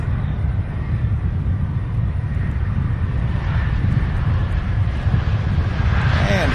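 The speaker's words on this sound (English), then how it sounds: "This is that Delta flight out of Minneapolis" A Delta airliner from Minneapolis comes in quickly at Louisville airport, its low, even engine rumble droning steadily and brightening slightly near the end. No voices are heard.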